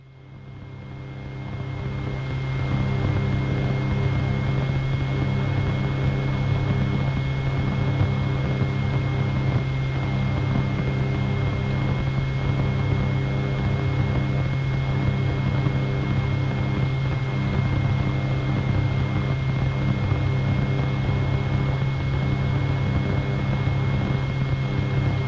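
Rotorway helicopter in flight, a loud, steady engine and rotor drone that swells up over the first couple of seconds and then holds constant throughout, with no talking.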